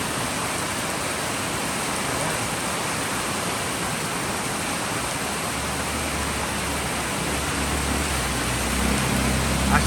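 Steady rain hiss pours down onto house roofs, a dense, even wash of droplets that never lets up, with a low rumble swelling in beneath it toward the end.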